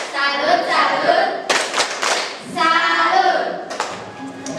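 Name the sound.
group clapping the Tepuk Salut clap rhythm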